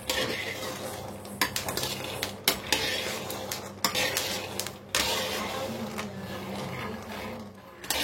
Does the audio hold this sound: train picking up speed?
no